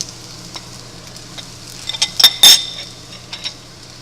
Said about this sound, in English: Then I'm going to add some more clarified butter to my pan.